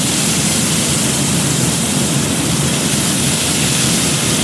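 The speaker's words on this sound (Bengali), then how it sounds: "পেঁয়াজটা একটু লাল করে ভেজে নিতে হবে" Chopped onion frying in hot oil with white cumin, black cumin and dried chilli, giving a steady, loud, dense sizzle throughout with no talk.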